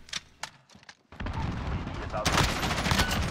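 A gun fires in Modern Warfare: a few scattered clicks and shots, then a dense, loud burst of rapid close gunfire that rises sharply near the end, with a voice briefly audible.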